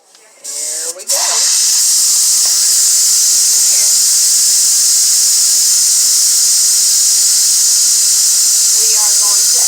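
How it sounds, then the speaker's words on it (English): Steam hisses loudly and steadily from a pressure cooker valve being vented, a sustained broadband rush that starts after a brief opening and continues unbroken to the end. "this is our 3rd time of letting the steam off"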